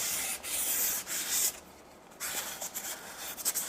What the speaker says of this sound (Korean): 집에서는 이렇게 사포질을 해주시고